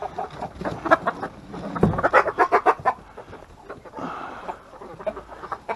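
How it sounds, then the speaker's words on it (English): Chickens cluck and squawk in a busy cluster at feeding time, a run of close, sharp calls mixed with scratching and flapping, with no talk over them. "let's go feed the chickens now"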